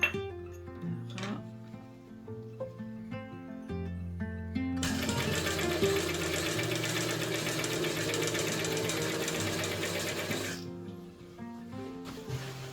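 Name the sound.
sewing machine stitching smocking fabric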